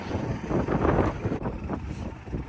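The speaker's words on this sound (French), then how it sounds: "Désolé, il y a un petit peu de vent." Wind buffets the microphone in a garlic field during harrowing, with a low, rumbling roar that swells and fades throughout, fairly loud and steady with no voices.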